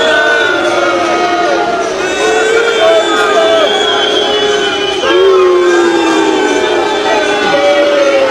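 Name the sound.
crowd booing as the royal car passes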